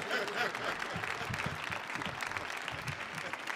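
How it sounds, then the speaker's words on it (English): A concert audience claps steadily and densely throughout, a close wash of many hands with a faint murmur of crowd voices underneath. "Clap your hands for them."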